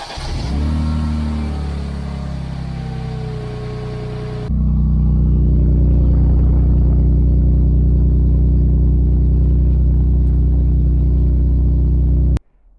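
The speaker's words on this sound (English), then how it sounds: "some of you will remember the loud exhaust on this car" A Mercedes engine with about 440,000 km idles roughly, then the exhaust booms louder and steadier with a deep, throaty drone before cutting off abruptly.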